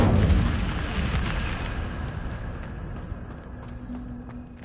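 An Incendio fire spell bursts in Hogwarts Legacy, a strong low whoosh and roar at the start that crackles and slowly fades into a lingering rumble.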